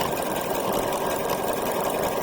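Sewing machine running a satin stitch, a steady fast mechanical whir and rattle, close and continuous without pause.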